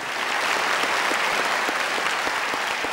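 A live concert audience applauds to welcome a singer on stage, a dense, steady wash of many hands clapping at once that holds evenly throughout, with no voices rising above it.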